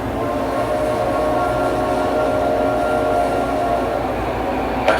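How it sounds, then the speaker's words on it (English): A train on a railroad rumbles steadily nearby, a continuous loud roar with rolling low-end clatter that holds even throughout. "the only resemblance from the normal world was the sound of a train coming my way"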